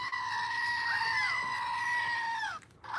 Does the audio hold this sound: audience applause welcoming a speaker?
no